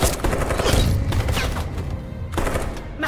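Gunfire in the video game Detroit Become Human, a loud close burst of rapid automatic shots that rattles on, pauses briefly, then resumes, with no voices over it.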